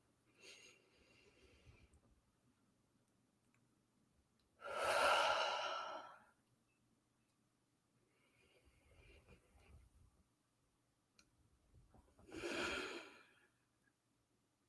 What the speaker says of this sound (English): I want you to expand your belly and take a deep breath.